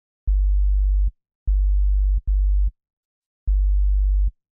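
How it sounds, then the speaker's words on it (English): Ableton Operator synth playing a plain sine wave tone: four low steady hums, each under a second long, two of them nearly back to back, with clean starts and stops and silence between. "it's just playing the simple sine wave"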